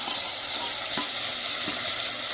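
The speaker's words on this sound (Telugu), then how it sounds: "జింజర్ వేగిన తర్వాత ఇప్పుడు కర్డ్లో మిక్స్ చేసుకున్నదంతా మనం వేస్తున్నాము." Curd mixture hits fried ginger in a hot pan and sizzles steadily, close and fairly loud, with a few soft stirring scrapes.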